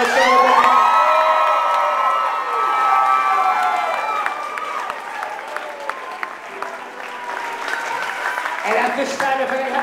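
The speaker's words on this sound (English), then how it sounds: "Please keep your applause going if you think Lauren is the most beautiful woman in the room" Steady applause and loud cheering from a wedding reception crowd at Roger Williams Casino in Rhode Island celebrate the bride during bridal party introductions, with whoops and shouts rising over background music throughout.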